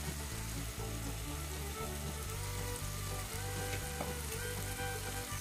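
Washed prawns sizzle in soft cooked tomato masala, a dense, constant frying crackle that stays loud and even throughout with no talking.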